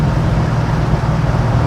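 Engine of a 1969 Pontiac GTO with a Tremec manual transmission downshifting while cruising, a steady low rumble heard from inside the car without clear rev changes.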